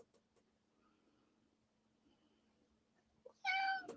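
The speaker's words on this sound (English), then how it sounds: "I love that sound. The meow." A house cat lets out one loud, close meow near the end, after several seconds of near-silence in a quiet room.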